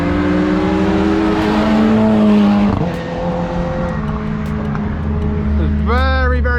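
Class B race cars on a damp Anglesey circuit drone loudly past in a steady stream of engine tones, one car dropping away midway, then a sharp rising rev near the end.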